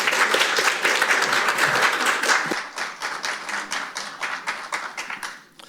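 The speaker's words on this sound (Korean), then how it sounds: "성일종 위원장님을 큰 박수로 맞이해 주시기 바랍니다" An audience at a defence technology forum claps to welcome the chair of the National Assembly's defence committee; a full burst of applause thins into scattered, individual claps and then fades out.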